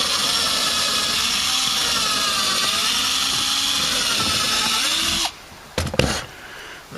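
A power drill bores a pilot hole into wood, whining at a steady high pitch for about five seconds before stopping abruptly, then a few brief clunks and handling noises follow.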